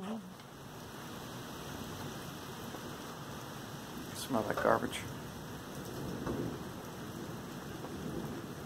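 Rain pattering steadily onto a home driveway during a storm, a broad continuous hiss with a brief louder burst midway and someone speaking briefly over it.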